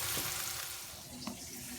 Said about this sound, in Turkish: Hamburger etlerimizi arkalı önlü güzelce kızartıyoruz